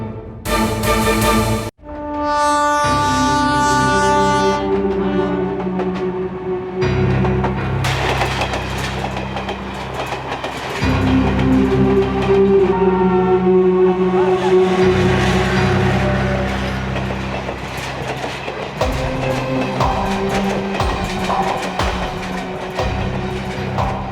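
A passenger train bound for Mumbai rumbles along the rails with a steady, loud, continuous drone and no voices, the sound shifting slightly in texture as it runs.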